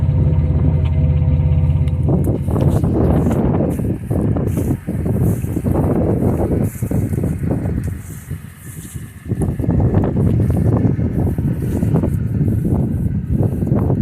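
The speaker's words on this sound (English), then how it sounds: "Sounds great. You can hear the exhaust." A 1999 Dodge Dakota 4x4 pickup's V6 Magnum engine rumbles with a deep, throaty exhaust tone, rising and falling as it revs, with some wind buffeting the microphone.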